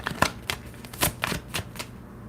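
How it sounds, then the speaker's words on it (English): Tarot cards are shuffled in a series of crisp riffling bursts spaced about half a second apart, close and fairly loud, with no talking. "Cards are being shuffled."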